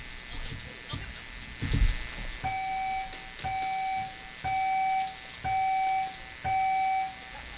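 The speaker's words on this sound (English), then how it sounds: "Go for that buzzer." Electronic buzzer at a paintball league match sounding five evenly spaced, steady tones of about half a second each after scattered crowd noise and thuds.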